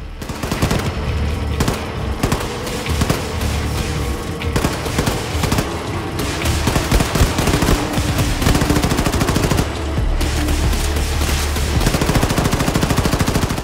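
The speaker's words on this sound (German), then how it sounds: "Zurück zur Maschinenpistole." Rapid automatic gunfire rattles almost nonstop in loud, dense bursts, with only brief gaps between volleys; a submachine gun firing up close in the video game Wolfenstein II: The New Colossus.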